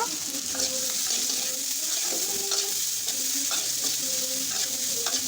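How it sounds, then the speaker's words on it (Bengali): Finely chopped onion frying in hot oil for a village-style puti fish bhuna, a dense continuous sizzle with soft stirring clinks throughout, close and fairly loud, no talking. "ওই তেলের মধ্যে আমি দিয়ে দিলাম প্রথমে পেঁয়াজ কুচি পেঁয়াজ কুচি তাকে হালকা ভেজে নিব"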